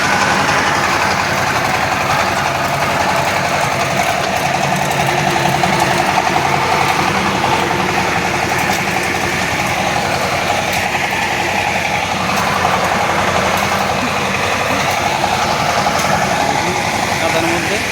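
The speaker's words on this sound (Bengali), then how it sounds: "কাদার মধ্যে এই পাওয়ার টিলারগুলো কিন্তু এই পাট টানার কাজে ব্যস্ত আছে।" Two power tiller engines chug steadily in a muddy field while hauling harvested jute, a continuous rough drone with mechanical rattle that stays loud and unbroken throughout.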